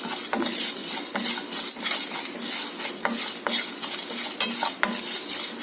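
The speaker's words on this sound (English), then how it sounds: "Now we will dry roast all these ingredients." Fennel seeds, black pepper and cumin dry roasting in a hot pan, stirred so the spices rattle and scrape in a steady dense stream of crisp, close clicks and scratches with repeated sharp utensil taps against the metal.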